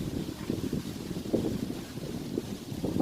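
Wind buffets the microphone in gusty low rumbles, a loud, uneven roar with no talking.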